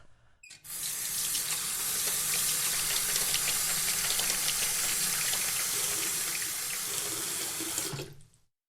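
Water runs steadily from a kitchen tap into a sink during washing up before breakfast, a loud continuous gush that starts abruptly, holds for about seven seconds, and cuts off.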